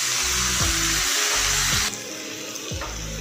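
Vinegar goes into a chilli chicken sauce mixture with a steady, close hiss like a splashing pour or sizzle. It runs a few seconds and eases slightly near the end, with no talk.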